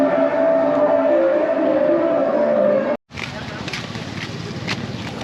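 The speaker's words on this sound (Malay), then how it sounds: "Dia akan pasang muzik kematian" Sustained funeral music plays through a loudspeaker in Kampong Cham, Cambodia, then cuts abruptly and gives way to a different, noisier stretch of amplified sound.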